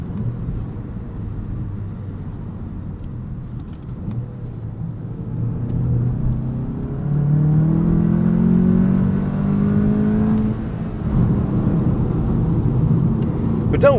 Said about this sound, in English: this road surface is louder than the engine